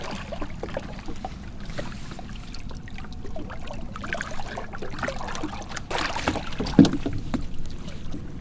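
A small motorised vỏ lãi boat travelling over seasonal floodwater, its engine a constant low drone mixed with water wash and splashing, steady and fairly close throughout, with no speech.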